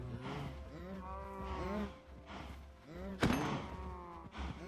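Minecraft cows moo in a few long, layered calls, close and steady, with a short sharp thump partway through and a voice faintly under them.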